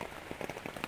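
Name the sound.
pouring rain on a tent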